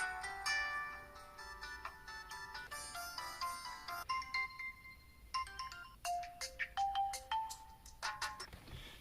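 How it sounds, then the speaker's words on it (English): Several ringtone tunes from a Huawei Ascend P6 smartphone play one after another, bright electronic melodies of short chiming notes at low volume, switching between tunes every few seconds with no talk over them. "We've got a huge amount of ringtones in here for you to choose from"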